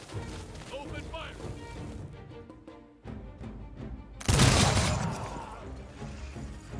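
Volley of gunfire in the strategy game Humankind, a burst of crashing shots that swells suddenly loud and noisy after a quieter stretch of battle sounds.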